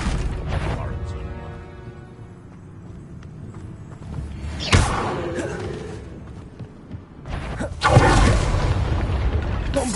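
Expulso spell in Hogwarts Legacy bursts with a sharp explosive boom, followed by two more heavy blasts spaced a few seconds apart, set against a busy game soundscape with speech mixed in.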